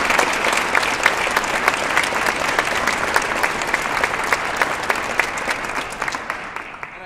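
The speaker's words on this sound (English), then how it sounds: "So would like to give a round of applause to all of those folks." Audience applause fills a concert hall after a speech at a youth wind symphony concert, steady dense clapping that holds throughout and begins to thin near the end.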